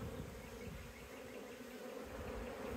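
Honey bees hum steadily in an open hive during a spring inspection, close and even in level. No voices break the buzz.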